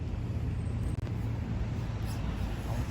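A WLTOYS 104009 1/10 scale RC truck with metal internal parts, rated around 45 km/h, driving along; a steady, dense rumbling noise with no voices and one brief dip partway through.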